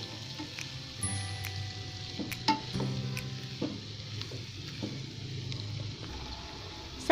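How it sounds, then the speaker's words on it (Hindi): Fried rice ingredients frying in a pan, a steady close sizzle with light scraping and ticking of stirring throughout, no voices. "1 मिनट हमने इसको फ्राई किया है"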